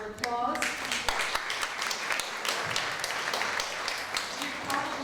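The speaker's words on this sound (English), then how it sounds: "I'd like to give them a hand of applause." An audience at an Italian fashion show gives a round of applause for Ferrari as an event partner, steady clapping filling the room with a few voices murmuring underneath.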